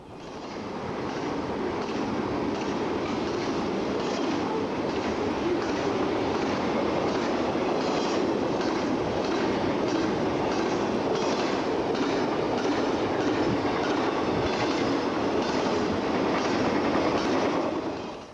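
A Norfolk Southern freight train carrying J.B. Hunt containers rolls past on the Pennsy line, a steady, loud rumble and wheel clatter that holds evenly from start to finish with no voices.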